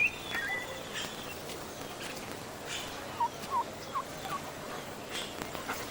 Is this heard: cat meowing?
no